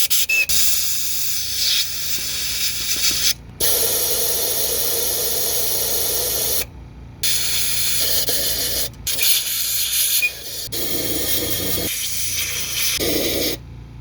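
Compressed air blasting over a BMW E36 engine block during prep, a loud continuous hissing rush in long bursts with brief silent pauses between them.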